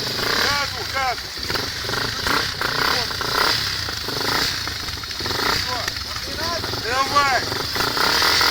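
An enduro motorcycle engine revs repeatedly near a forest stream, rising and falling in pitch in several bursts, while voices shout encouragement over it.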